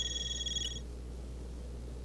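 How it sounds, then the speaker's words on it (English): Xipha phone ringing in the video game Trails Through Daybreak, a bright electronic ringtone of repeated tones over a low steady hum, cutting off after under a second. "everyone's Zifas are ringing all at once"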